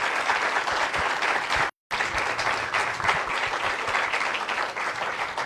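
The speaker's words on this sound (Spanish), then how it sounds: "Un aplauso, por favor." Audience applause after a Spanish-language talk on culture and education, a steady dense crowd clapping that fills the room, briefly cut to silence near the two-second mark before resuming at full strength.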